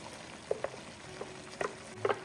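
Red chile sauce for a Zacatecas-style pork stew poured straight into a hot pot, with a soft frying sizzle and a few spattering pops, quiet and close, with no talk.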